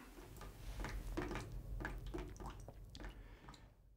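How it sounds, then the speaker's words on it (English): Rainwater percolates down through soil as groundwater recharge, heard as soft, irregular drips, ticks and squishy trickles at close range, fading slightly toward the end. "What we can see and hear now is the groundwater recharge."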